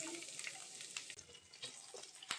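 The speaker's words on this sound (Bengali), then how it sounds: "পেঁয়াজ রসুন একটু ভেজে নেব হালকা করে।" Chopped onion, garlic and green chilies frying lightly in a pan for a mixed vegetable dish, a steady close sizzle with occasional stirring clinks and scrapes.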